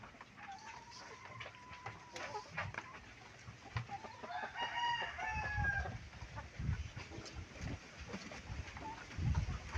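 Broiler chickens in a coop where hens are laying: repeated clucks and rising crowing calls at moderate distance over a soft rustling background.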